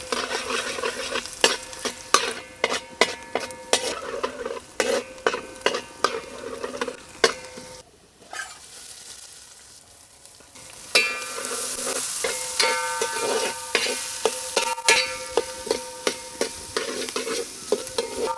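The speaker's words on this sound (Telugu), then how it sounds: "ఈ ఉల్లిపాయలు బాగా బ్రౌన్ అయ్యే వరకు ఇలాగే వేయించుకోవాలన్నమాట" Onions frying with ginger, garlic and garam masala for a dhaba-style tandoori chicken tikka masala, a busy sizzle broken by repeated rhythmic scrapes and clinks of a spoon against the pan, briefly quieter midway before the stirring resumes.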